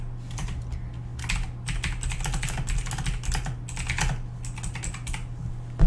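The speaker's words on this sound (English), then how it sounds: "You can type on them." Steady computer keyboard typing in bursts of quick keystrokes, close and clear over a low constant hum, with no speech.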